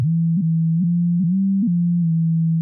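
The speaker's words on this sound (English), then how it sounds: "When PLLague is open to its default, we just hear a pitch tracked sine wave." A pitch-tracked sine wave from the PLLague phase-locked loop software effect at its default setting, following a guitar: one loud, steady pure tone with brief glitchy pitch jumps at each new note, alone with no voices.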